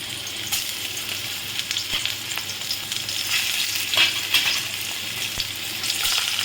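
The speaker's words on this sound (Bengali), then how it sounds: "এবারে আমি এই যে তেল গরম হয়েছে, এখানে আমি এগুলো ভেজে নেব" Raw green banana pieces coated in gram flour, ginger, turmeric and salt fry in hot oil, giving a loud, close, continuous sizzle with bubbling crackles and occasional stirring.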